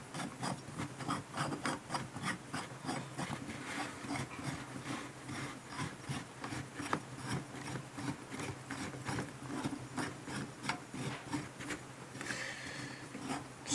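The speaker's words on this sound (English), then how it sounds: "Screw this bad boy into the base right quick." Fine-threaded metal parts of an antenna mount are screwed into a stand base by hand, giving a quiet, repeated rasping and rubbing with rhythmic scrapes throughout.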